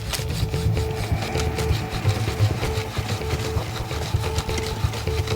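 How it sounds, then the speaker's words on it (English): Two pieces of wood are rubbed together for a friction fire, with sand added to the pocket for grip, making a quiet, steady grinding scrape in repeated strokes with no talking. "If the two pieces of wood start to gloss over, I'm not getting the friction."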